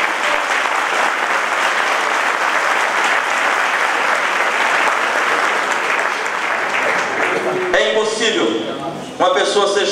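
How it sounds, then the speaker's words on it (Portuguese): A church congregation at a 2018 convention applauds steadily and loudly, a dense wash of clapping that holds for about eight seconds before giving way to someone speaking near the end. "Aleluia, aplauda o Senhor."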